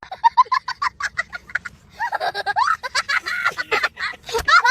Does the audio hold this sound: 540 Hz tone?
no